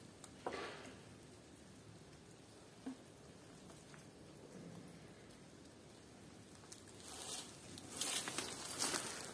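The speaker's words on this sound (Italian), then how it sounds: "Tanto continua a piovere." Rain falls steadily around a caretaker's house, a soft constant patter heard from a distance. It grows a little louder with scattered drops toward the end.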